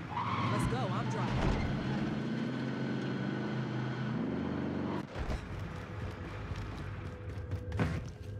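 A car in Warzone drives hard and skids, its engine whining and tires squealing loudly in a long slide, then rumbling on over rough ground with thumps, while players talk throughout.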